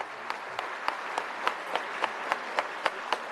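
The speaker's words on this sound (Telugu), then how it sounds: "అందరూ కూడా కరద్వాల ధ్వనులతో గట్టిగా చప్పట్లతో మనం ఒక్కసారి" Audience at a Gita Maitri Milan devotional gathering in Tirupati claps after a musical performance, sharp claps landing in a steady, even rhythm about three per second over a soft background hum.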